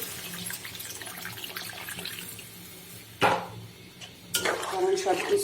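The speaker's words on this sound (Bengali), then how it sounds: "এখন আমি দুধটা দিয়ে দিচ্ছি" Milk is poured into a pan of mixed vegetable curry, a liquid splash and clatter of utensils against the pan arriving in two brief bursts late in the clip, close by after a stretch of quieter kitchen sound.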